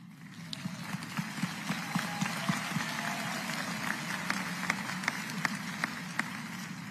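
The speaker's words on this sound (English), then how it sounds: "let's please join them all in a big warm round of applause and welcome these public servants" Steady applause from a morning audience at the 2024 Orange County State of the County address, greeting standing elected officials: dense, even clapping with crisp individual claps, sustained throughout at moderate level without talk.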